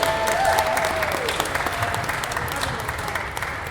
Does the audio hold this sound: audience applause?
yes